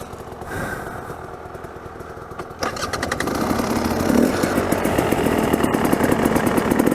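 An off-road motorcycle from 1973 runs with its choke on, giving a close, steady putter. It grows louder and rougher partway through, with a regular pulsing beat.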